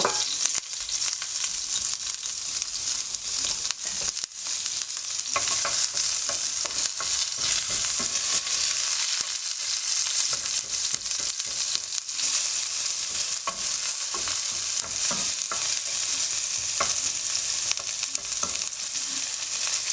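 Onion fries in oil in a sauté pan that still holds traces of seared tuna, giving a continuous loud crackling sizzle with frequent stirring scrapes throughout, no voices.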